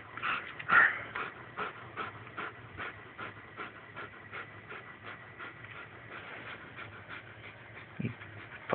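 Oberon, a wolf puppy, pants close by in a quick, steady rhythm of soft breaths, with a slightly louder huff near the start and no talking over it.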